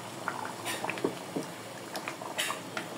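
Goat meat curry with whole spices bubbles in a pot as it simmers toward a thick gravy, soft irregular pops and gurgles close by, with light clinks of utensils and no talking.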